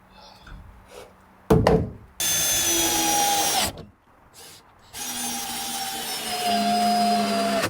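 A power drill drives 6-inch Timberlock lag screws through the butts of roof rafters on a cabin build, running in two long, loud sustained whirring bursts separated by a knock and a short pause.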